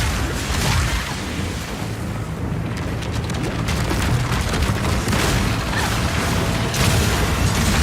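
Armor-piercing crossbow bolts fired in the video game Path of Exile 2, a dense run of mechanical clacks, thuds and booming impacts over a loud, busy battle backdrop.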